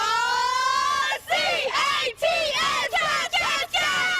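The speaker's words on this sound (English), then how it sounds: "Saturday night's big win brought out a big, loud crowd." A big, loud crowd celebrates a Kentucky Wildcats basketball win in the street at night, cheering and whooping in long, rising and falling yells with brief pauses between outbursts.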